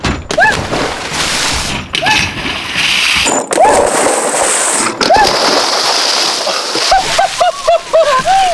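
A Panasonic Toughbook laptop and people plunge into water in a series of loud splashes and sloshes, with excited voices and whoops rising between the splashes.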